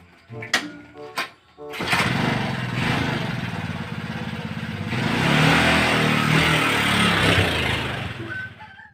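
A motorcycle engine starts with a couple of sputters, then revs loudly and steadily nearby, with a brief rising surge partway through.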